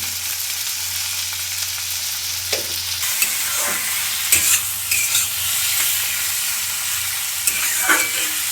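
Small chuno fish fry in a pan with salt and turmeric, making a continuous sizzle broken by repeated spatula scrapes and knocks as they are stirred; a low hum fades out partway through.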